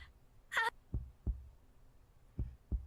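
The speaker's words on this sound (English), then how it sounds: "Sound of my heartbeat thrashes against my ears." Heartbeat effect in a tense horror audio story: a few deep, thudding beats in paired rhythm, close and booming against near silence, with a short crackling noise early on.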